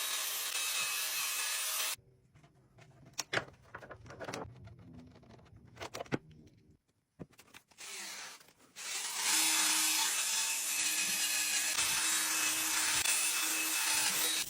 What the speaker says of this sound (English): we're gonna buff out a lot of the chrome here